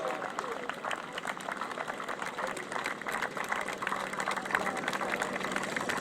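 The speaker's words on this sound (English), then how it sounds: "Give them a round of applause as they come around." A distant crowd at an outdoor grasstrack race applauds sidecars coming around the track, the faint clapping mixed with engine noise and murmuring talk.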